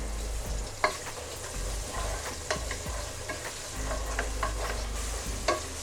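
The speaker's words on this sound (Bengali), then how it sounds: "আমি পেঁয়াজটা দিয়ে দিচ্ছি।" Sliced onions sizzling in oil for a Bengali mutton and potato curry, a constant crackling fry over a low hum, punctuated by spatula scrapes and knocks against the pan.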